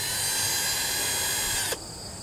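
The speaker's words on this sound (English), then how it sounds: "It's a cordless drill," A cordless drill driver whirs steadily at high speed, a bright continuous whine that cuts off abruptly near the end, leaving a faint residual hum.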